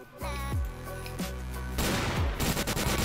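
A giant revolver fires in Garry's Mod, giving a few loud, booming shots with long ringing tails, then a denser burst of blasts toward the end. Rumbling game audio fills the gaps.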